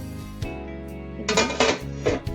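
A metal pot lid is lifted off a pot holding a freshly steamed rava and biscuit cake, giving a few close clinks and scrapes of metal against metal, with no talking.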